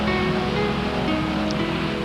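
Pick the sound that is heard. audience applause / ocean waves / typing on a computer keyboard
ocean waves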